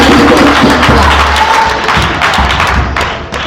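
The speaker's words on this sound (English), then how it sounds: "Give them a round of applause," An audience at a national championship event gives a loud, dense round of applause with thumping and some cheering, tapering off toward the end.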